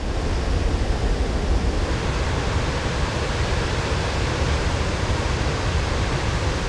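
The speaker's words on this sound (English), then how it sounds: "This one, the upper falls of the Taquamenon River," Steady roar of rushing water at the upper falls of the Tahquamenon River, a dense, constant broadband wash with no pauses, close and loud throughout.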